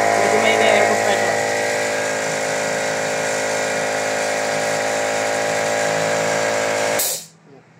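An air compressor runs steadily on a fully automatic foaming machine, a loud, even droning hum with a constant tonal whine that holds for several seconds and then cuts off abruptly near the end.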